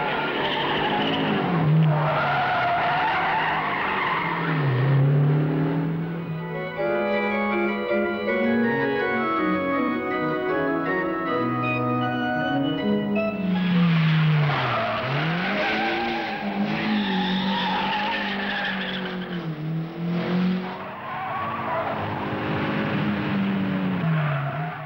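A Renault R8 Gordini rally car braking hard and sliding, its tires squealing and skidding in long wavering shrieks over the engine's rising and falling drone, loud and close throughout.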